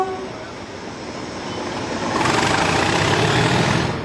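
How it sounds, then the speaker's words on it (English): A diesel locomotive engine being thrashed, a loud, dense engine roar that swells and grows heavier partway through and holds steady, heard up close with no talk. "he is keen to give his engine some thrash"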